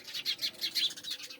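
Small birds chirp from the trees in Rajasthan, quick high tweets bunched in short bursts several times in a row, fairly faint and close, with no voices.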